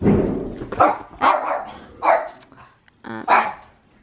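A dog named Daisy barks several times in short, loud bursts, with pauses between them, close by and alone.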